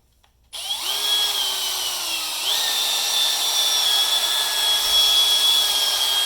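A hone tool spins inside the steering triple tree of a Honda Z50/CT70 mini trail bike, giving a loud, steady, whining power-tool drone that starts abruptly after a moment of quiet and runs continuously.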